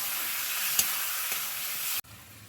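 Spice paste sizzles and fries in a pan while being stirred for a cabbage curry with chicken liver and gizzard, a steady close hiss with a couple of soft scrape accents before the sizzle drops sharply near the end.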